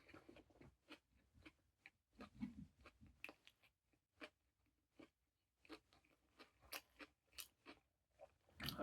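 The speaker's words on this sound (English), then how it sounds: "I tend to chew my food a lot." Close-up ASMR chewing of a big sandwich, crisp bites, crunches and wet mouth sounds coming in irregular bursts, separated by near-silent pauses, with no talking.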